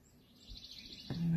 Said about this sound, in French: Je ne sais pas si vous entendez les oiseaux, mais c'est super agréable.